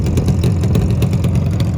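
Yamaha RD350 two-stroke twin motorcycle engine running loud and close, a dense, steady, rapid-firing rumble with a faint regular pulse throughout.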